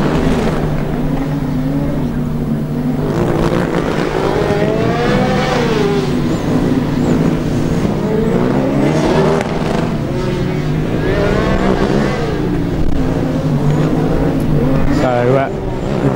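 The Coburg team's Formula Student race car laps an endurance event, its engine revving and shifting in rising and falling sweeps, with a commentator talking over it.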